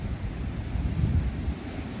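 Wind gusts over choppy Lake Erie as waves wash in steadily, with low rumbling buffets on the microphone.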